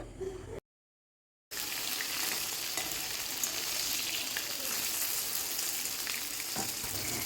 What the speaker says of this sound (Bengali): কালো জিরা ফোড়ন যাতে কালো জিরার ফ্লেভারটা খুব ভালোভাবে ঢুকে যায় আর দিয়ে দেব সামান্য কয়েক দানা মেথি